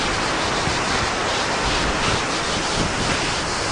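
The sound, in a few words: waterfall in Iceland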